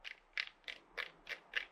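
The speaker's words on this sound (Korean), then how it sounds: "여기서 이 다이얼이나 이런 걸 막 돌려보다 보면은 뭔가 변할 거예요" The shutter-speed dial on a used camera clicks as it is turned, six light ratcheting detents at a steady pace, faint and close with no other sound.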